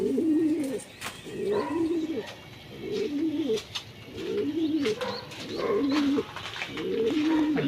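Pigeons coo in a close, repeated rhythm, with about half a dozen soft rolling calls at even intervals and faint chirps and rustling around them.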